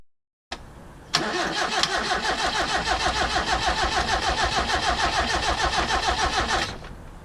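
A Honda CRX HF engine cranks steadily on the starter for a compression test, a rapid even chugging rhythm that holds for about six seconds before cutting off, close and loud with no talk.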